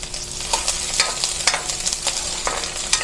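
Onions sautéing in a pan for ginataang alimasag with squash and water spinach, with a steady crackling sizzle and repeated scraping stir strokes roughly every half second, close and clear with no talk.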